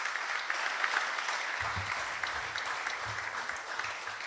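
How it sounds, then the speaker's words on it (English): Audience at a chamber of commerce business event gives a speaker a round of applause, sustained even clapping with low murmuring voices creeping in partway through. "this is a man who deserves a round of applause"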